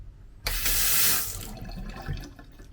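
Water gushes from a Franke Eiger kitchen tap just after a cartridge replacement, bursting on loudly with a bright splashing rush into the sink, then easing to a quieter steady flow.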